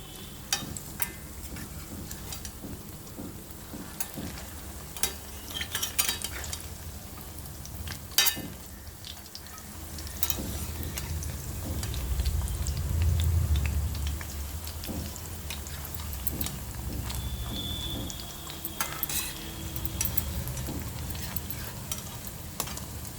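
Masala fish vada fry in a pan, a steady low sizzle with scattered clicks and scrapes as the pieces are stirred and turned, moderately close with no talking.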